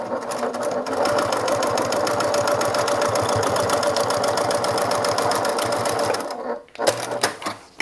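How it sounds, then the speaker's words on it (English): A sewing machine runs a continuous line of stitching on a bag, loud and close with a rapid steady needle rhythm, then stops near the end and gives a few short bursts. "I'm going to do a second line of stitching right beside that first one."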